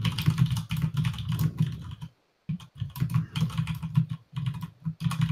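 Fast, continuous typing on a well-loved computer keyboard, the keys clattering close and loud in dense bursts with one short pause midway, no speech.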